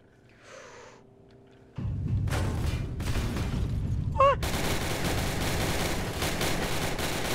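Ship guns fire in the Navy Simulator video game, a sudden loud onset of dense rapid gunfire that keeps rattling on after a quieter start.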